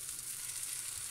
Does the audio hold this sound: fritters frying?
yes